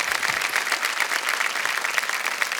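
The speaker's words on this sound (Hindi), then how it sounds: "तालियां बज जाए इनके लिए।" Studio audience on the KBC television quiz show claps steadily for a contestant, a continuous, even patter of many hands at moderate volume with no pause throughout.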